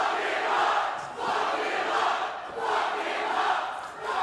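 A wrestling crowd at a Juggalo Championship Wrestling American Championship match cheers and shouts in swelling waves, a loud, dense mass of voices that rises and falls several times.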